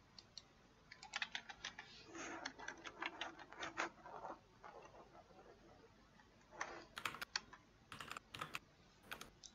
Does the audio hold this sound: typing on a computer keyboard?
yes